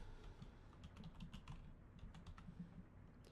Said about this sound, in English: And I'm typing in the wrong thing here.